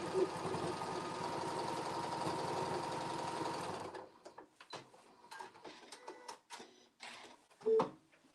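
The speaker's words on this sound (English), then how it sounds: "I'm going to sew this onto the back" A sewing machine stitches fabric for about four seconds in a fast, even mechanical whir, then falls silent, leaving scattered soft clicks and handling noises.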